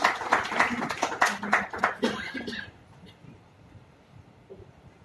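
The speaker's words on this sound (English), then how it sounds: "So I would like to invite Mr. Jonathan with your great applause" Audience applause at a product launch event for an ultrasonic kitchen sink, a burst of clapping from a crowd for about three seconds that then fades out into quiet room noise.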